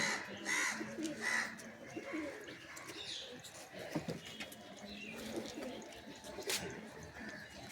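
Pigeons in a home loft coo softly and steadily along with scattered chirps, faint and somewhat distant, with quiet background voices.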